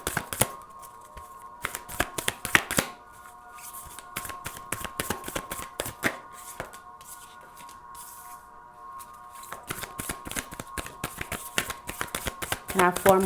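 A deck of oracle cards is shuffled by hand in a quiet room, with repeated brisk riffling and slapping bursts, some short pauses between rounds and a faster flurry near the end.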